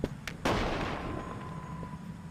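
A single loud gunshot fires in a video game, opening with a sharp crack and a heavy booming blast that decays slowly behind a low rumble, with no talking.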